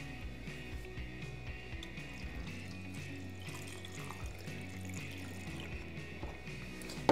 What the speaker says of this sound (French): Enlevez le couvercle de votre cuve, puis versez le premier bain,